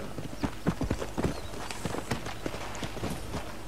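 Horse hooves clip-clopping in the Western video game Red Dead Redemption, a run of uneven, fairly close hoof strikes over a steady low game-ambience bed, with no talk.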